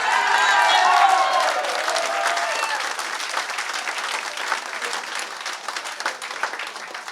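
A town hall crowd for a Republican Senate candidate in Kingston, New Hampshire bursts into applause mixed with cheers and a few whoops at first, then settles into steadier, thinning clapping.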